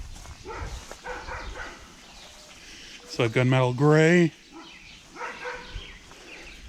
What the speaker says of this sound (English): The neighbor's dog is not too happy that I'm here.